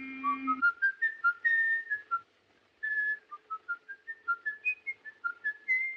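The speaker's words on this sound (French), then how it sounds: "Il sifflote un air, Peer Gynt, dans l'antre du roi de la montagne de Grieg." A man whistles Grieg's In the Hall of the Mountain King in the 1931 film M, a quick, rising melody alone, in short clipped notes with a brief pause midway, bright and close.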